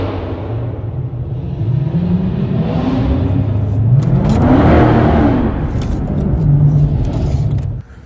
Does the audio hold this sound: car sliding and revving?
yes